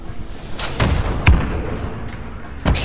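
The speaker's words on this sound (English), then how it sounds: "We hear some explosions" Explosions in the video game Fortnite: a few dull thumps and booms, one sharper blast near the middle and another at the end, fairly close over a low background.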